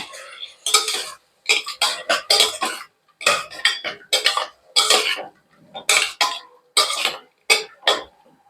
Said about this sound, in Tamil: மட்டனை போட்டு ஒரு கிளறு கிளறி விட்டுருங்க